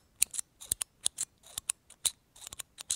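Titanium Astrolux TP01 bolt-action tactical pen with a Parker refill, its bolt clicked repeatedly in a quick irregular series of sharp, close metallic clicks with no talking.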